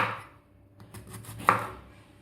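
A knife chops bitter gourd into slices on a board, two distinct close chops about a second and a half apart with faint clicks between, quiet kitchen otherwise.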